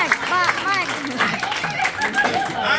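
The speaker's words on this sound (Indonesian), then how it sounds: "Tepuk tangannya keras." An audience at a business and product sharing session claps loudly, with bursts of hand clapping mixed into overlapping chatter and some laughter nearby.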